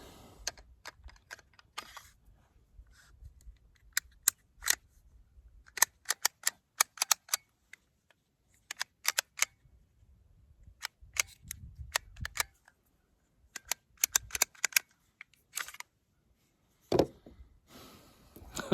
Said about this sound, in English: This is going to be important when you're putting the gun back together.